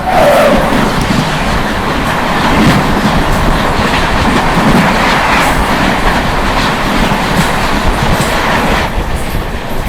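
The Islampur–New Delhi Magadh Express rushing past on an Indian railway line, heard from aboard a moving train, a loud, continuous roar with rhythmic wheel clatter and rumble lasting throughout, with no talking.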